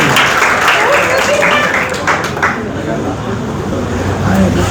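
Applause from a class audience at a Portuguese-language evening lesson, a steady loud wash of clapping that fills the whole stretch, slightly thinning toward the middle, with a faint background hum.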